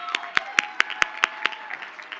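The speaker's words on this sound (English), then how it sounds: "So please give them a round of applause right now." Sparse applause at a 2019 Colin Powell School commencement, with about eight distinct, fairly faint claps spaced evenly over two seconds in a quiet hall.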